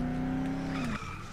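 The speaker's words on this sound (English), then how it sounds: "Listen to that. Engine with a stage 3 cold air intake." Engine of a blue truck with a stage 3 cold air intake in the Dead Island video game, a loud steady whining drone that drops sharply in pitch, followed by a brief tire-squeal-like screech.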